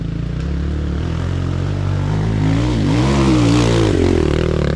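A small motorcycle ridden by a five-year-old boy revs nearby, its engine droning steadily, then climbing and dipping in pitch through a couple of throttle blips toward the end, with no talk.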